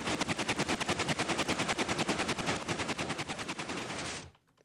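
Minecraft observer block contraption sweeping mobs, giving off a loud, rapid and steady mechanical clatter of dense repeated clicks for about four seconds before cutting off abruptly.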